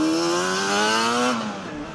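A Yamaha TDR 250 two-stroke motorcycle engine runs with a steady, buzzing harmonic drone that climbs slightly in pitch, then drops and fades as the revs fall near the end. No voices are heard.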